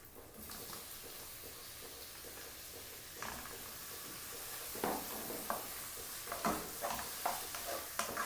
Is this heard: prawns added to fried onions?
yes